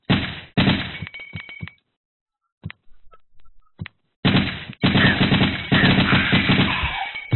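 Machine gun fire in Resident Evil 3 (Biohazard 3): loud, rapid automatic bursts with a brief silent gap in the middle, then sustained, continuous firing, heard clearly and up close.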